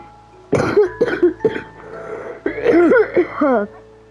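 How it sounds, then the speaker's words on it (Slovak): A few close, harsh coughs in quick succession, with a brief pause between two bursts. "Sorry za kašlem."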